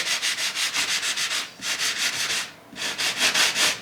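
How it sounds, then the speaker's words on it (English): Paint on the pavement of a model railroad layout is sanded by hand, producing close, rhythmic scratchy back-and-forth strokes in quick bursts, with a short pause before a final run. "I'm gonna go ahead and sand right here just a little bit"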